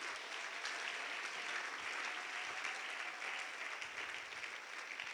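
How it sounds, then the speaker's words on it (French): A church congregation bursts into steady, dense applause in praise of the Lord, a full sustained clapping that fills the room with no pause, with only faint voices beneath it. "Est-ce qu'on peut acclamer pour le Seigneur?"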